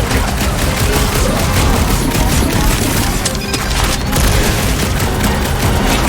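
Dense, continuous gunfire from a heavy weapon in the Guardians of the Galaxy video game, loud and relentless throughout with booming impacts mixed in and no pauses.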